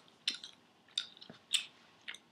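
Nicorette gum being chewed close up: soft, wet clicks and squishes in a slow, uneven rhythm of about five bites, quiet and alone with no talking.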